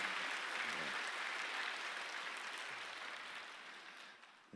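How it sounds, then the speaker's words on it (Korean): A church congregation applauds to welcome visiting newcomers at a Christmas service, a faint, even roar of many hands clapping that fades gradually toward the end. "우리 대형교회가 드릴 수 있는 뜨거운 박수로 환영하겠습니다"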